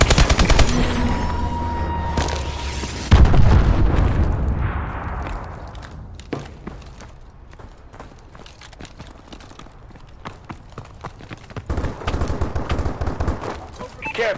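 Enemy missile strike in a multiplayer shooter, with a heavy explosion followed by bursts of rapid gunfire and scattered shots that fade toward softer, more distant crackles.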